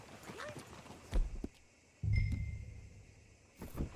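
Hooves of a very large horse in Red Dead Redemption 2 thud in a few brief clusters, with a heavy burst midway that fades slowly and another short flurry near the end, heard up close with no talking.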